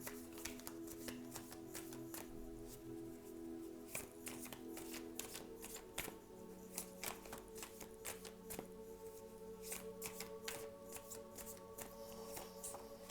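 Osho Tarot cards shuffled by hand in a quiet room, with a steady run of soft riffling taps and snaps that continues throughout, close to the listener.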